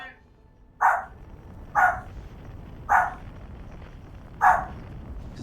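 A dog barks four times at steady intervals, each a sharp, fairly close woof, reacting to people coming in through the door, with a faint background hum between barks.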